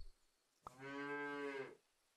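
A single cow moo in a video game sounds out after a brief click, a long tonal, slightly nasal call of about one second against a quiet background with no talk.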